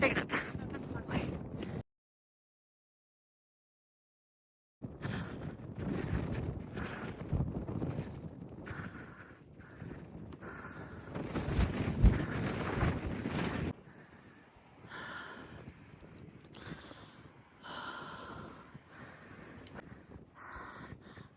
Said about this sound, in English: It's a little less windy up here